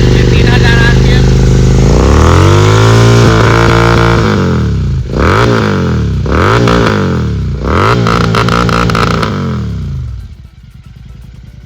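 A Royal Enfield GT 650 with an aftermarket exhaust revs up to about 3000 RPM, loud and close, in repeated rising blips from idle before settling back down to a lower idle.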